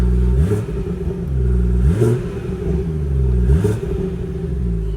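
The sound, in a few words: BMW 340i engine revving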